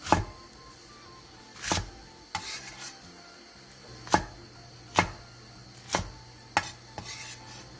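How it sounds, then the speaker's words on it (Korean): A kitchen knife chops a thick piece of radish, an onion and cheongyang peppers into large chunks on a cutting board, giving sharp, separate thuds at an uneven, unhurried pace with no speech. "무 2cm 두께의 한 토막, 양파 1개, 청양고추 3개를 갈기 좋은 크기로 큼직하게 잘라주세요"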